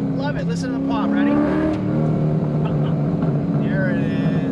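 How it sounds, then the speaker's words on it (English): A Corvette convertible with a Borla exhaust revs up close, its engine note rising and falling with a few sharp pops and crackles, while someone talks over it. "Listen to the pop."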